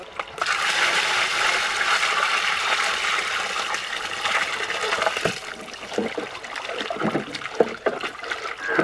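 Water poured into a pot of fried fish gravy cooking village style, a continuous rushing pour for several seconds that gives way to bubbling and splashes, close by.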